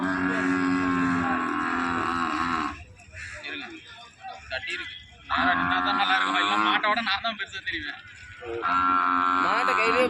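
Malaiyan cattle moo loudly and repeatedly at a busy cattle market in Karungalpalayam, Erode, with long drawn-out calls rising and breaking off between quieter stretches of crowd murmur.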